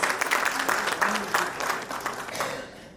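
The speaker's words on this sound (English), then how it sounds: "Can we please have a huge round of applause for sir, please?" A hall audience gives a speaker a round of applause, many hands clapping steadily at moderate loudness, then thinning out and fading toward the end.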